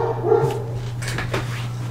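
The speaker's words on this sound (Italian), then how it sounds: "Scusate, c'ho il cane che abbaia." A house dog barks over the steady hum and music of a video game session, a couple of short barks partly blended into the noisy background.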